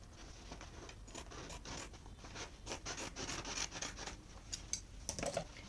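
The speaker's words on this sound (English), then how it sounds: "I'm going to go ahead and cut open one side of the fold." Scissors cut open one side of a length of folded fabric with a soft, continuous rasp of blades sliding and rubbing through cloth. The sound is close and quiet, with faint repeated snips.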